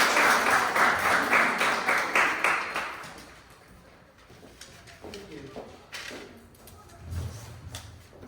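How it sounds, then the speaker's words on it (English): Audience applause at a keynote address, loud and dense for about three seconds, then dying away into scattered claps, faint rustling and low murmured voices. "A big hand of applause to all of you"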